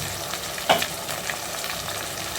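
Onions and tomato paste sizzle steadily in a pan for a fish curry, a continuous close hiss with one brief clatter of stirring partway through and no talking.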